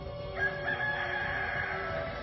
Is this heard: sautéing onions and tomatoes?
no